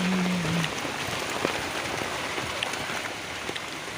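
Heavy rain drums steadily and closely on a tent, a dense, even patter of drops with scattered sharper hits and no voices.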